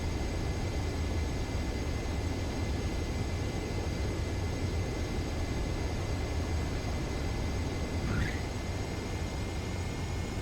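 A jet in Ace Combat 7 approaches the runway, its engine a steady, loud broadband roar that holds even throughout, with no talk over it.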